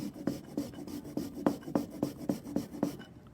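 Food is grated on a handheld kitchen rasp in about ten even, rhythmic scraping strokes, close and fairly soft, then it stops. There is no talk.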